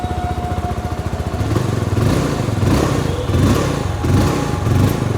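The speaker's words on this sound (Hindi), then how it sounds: "तो कुछ इस तरह का इसका एग्जॉस्ट नोट रहेगा" Exhaust of a 2025 Jawa 42 FJ motorcycle just after starting, a loud, close, pulsing thump-thump idle that thickens into a deeper rumble partway through, with no talking over it.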